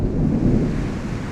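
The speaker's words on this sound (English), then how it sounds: "And then we get some amazing lightning here." Thunder from a lightning storm in Florida, a loud, close, continuous low rumble rolling through the whole moment with a faint hiss of rain or wind and no talking.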